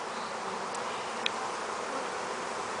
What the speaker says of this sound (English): this hive is actually fairly calm for the fact that I'm opening it up and bothering